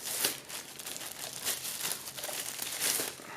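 Thin plastic bag crinkling and rustling up close while a DBPOWER 1000A jump starter is unboxed, a steady scratchy stream of crackles with a few louder crunches, no talking.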